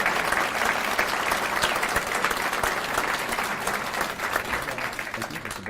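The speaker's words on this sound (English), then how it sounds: "please join me in a final round of applause for those employees for their service" Audience at an annual employee recognition awards ceremony giving a sustained round of applause for service award recipients, dense steady clapping filling the room, moderately loud and tapering slightly near the end.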